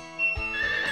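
A horse in Harvest Moon 64 neighs once in a short bright whinny with a soft thud, close and clear, with no talk over it.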